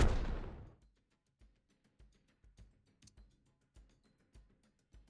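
Tank cannon firing in a tank battle game featuring British tanks: one heavy booming shot opens and decays over a second, followed by scattered faint distant thuds and pops.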